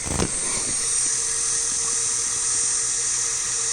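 A Zenbot CNC router spindle spinning up and running, a steady high-pitched whine close by after a brief initial clunk, with faint background hum and no talking.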